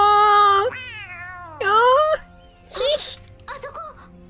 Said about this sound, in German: Katze. Katze.